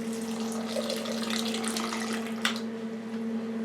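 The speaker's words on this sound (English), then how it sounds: "I'm going to open this can up and just pour about half of the can in there" Canned chicken broth pours from the can into a crockpot, a continuous splashing liquid stream under a steady low kitchen hum, ending with a small clink.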